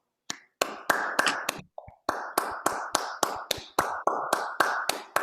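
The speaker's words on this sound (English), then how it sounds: "Let's give them a big round of applause." Irregular sharp claps and slaps in quick succession, fairly close and sparse, like a small group clapping unevenly, at an awards banquet.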